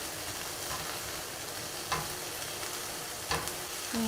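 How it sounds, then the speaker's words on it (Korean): Drained tofu stir-fries in a pan for a tofu scramble, a continuous close sizzle with a couple of brief scraping clicks as it is stirred. "여기 이제 두부를 좀 볶도록 할게요"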